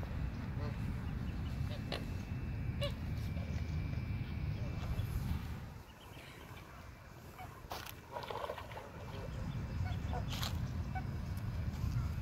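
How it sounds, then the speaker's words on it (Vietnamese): Scattered honking calls come from wild ducks at a park lake in California, set against a steady outdoor rumble, with a person speaking through parts of it. "Đây là đàn vịt trời."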